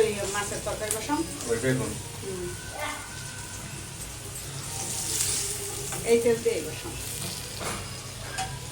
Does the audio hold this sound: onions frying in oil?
yes